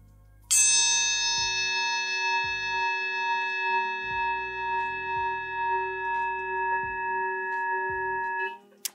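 A Meinl Classics bell cymbal, struck with its wingnut loosened, rings out as one long, clear metallic tone that sustains for several seconds, with soft low rattles and knocks underneath before it fades at the end.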